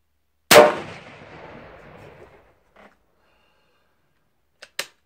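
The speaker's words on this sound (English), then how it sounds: "I'm just going to fire this last round off that I've got. Hit some steel somewhere down there." A single loud M39 Mosin Nagant rifle shot cracks out and rolls off in a long echoing decay, followed by faint, brief metallic taps and a sharp clang of steel struck far downrange.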